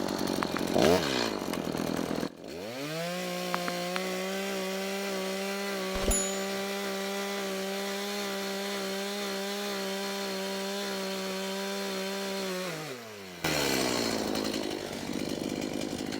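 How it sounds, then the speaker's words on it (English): A chainsaw cuts through wood while a garden room base is being built, its loud, steady buzzing whine held for about ten seconds between rougher revving at the start and end. "I'm obviously going to opt for the chainsaw on this one now."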